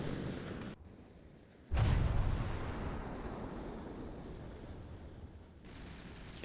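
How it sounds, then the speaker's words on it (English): Incendiary shells strike a warship in a naval game with deep, heavy booming impacts, a sudden loud rumbling blast after a short quiet gap, then a sustained roar that slowly fades. "Let's have a look, see what this does when it actually gets hit. Not that much for that wave, the incendiary shells."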